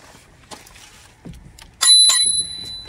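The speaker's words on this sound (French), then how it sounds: "une sonnette." A Sixfox electric scooter's built-in bell rings sharply and close by, one bright ring that sustains with a metallic shimmer after a few faint handling clicks.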